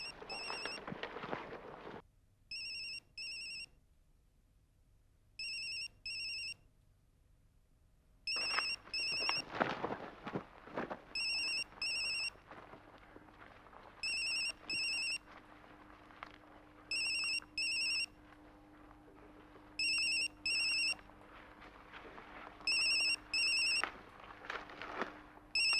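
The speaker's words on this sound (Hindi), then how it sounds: "बेल बज रही है।" A mobile phone rings with a repeating electronic ringtone in short bursts, heard indoors at moderate volume with a few rustling and thumping movements between rings.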